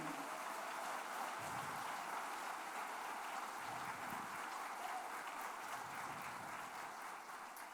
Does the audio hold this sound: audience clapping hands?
yes